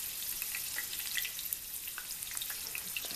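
Green bean bundles wrapped in pancetta sizzle steadily in a frying pan after being flipped, a close, constant crackling hiss with scattered pops and no talking.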